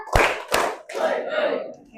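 Two sharp hand claps land about half a second apart in an Indonesian clapping rhythm game, followed by a voice speaking over a softer continuing sound.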